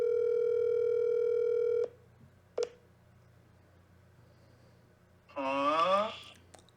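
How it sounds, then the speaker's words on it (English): A phone's steady dial tone hums loud and close for a couple of seconds, then cuts out; a single short keypad beep follows after a quiet gap, and a voice starts speaking near the end. "let me just call this completely random person on my phone"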